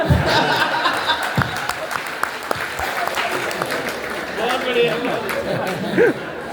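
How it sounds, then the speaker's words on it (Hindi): Audience at a political rally clapping in scattered bursts, sharp individual claps mixed with chatter and some laughter, with a speaker's voice over the crowd. "मंत्री जी बजाओ ताली।"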